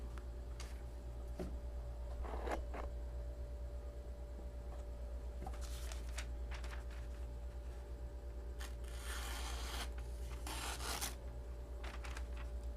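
A knife blade cutting through the bent, tattered paper of a yellow pages phone book, heard as quiet raspy slicing strokes in short bursts against a steady low hum, with no talking.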